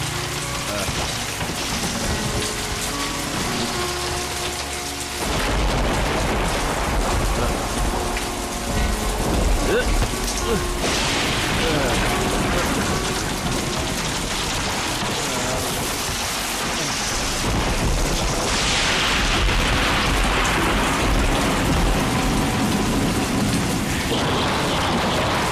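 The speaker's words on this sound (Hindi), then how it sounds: "इतनी बारिश हो रही है" Heavy rain pours steadily on surfaces for the whole stretch, with rolling rumbles of thunder building and fading, loud and close, and faint voices occasionally under the downpour.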